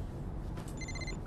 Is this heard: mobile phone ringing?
yes